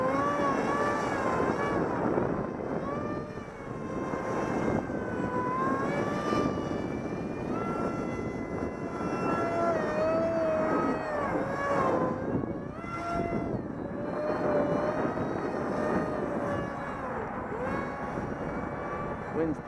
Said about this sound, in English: See if we can hover this jet around a little bit.